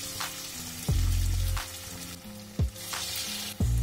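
Breaded chicken rolls fry in hot oil in a wok, a steady close sizzle that swells loudly each time a roll is lowered in, repeating about every second.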